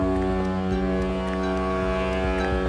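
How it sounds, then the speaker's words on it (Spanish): A deep, sustained horn blares continuously, loud and rich with harmonics, holding one steady low pitch throughout. "en esta bocina de barco"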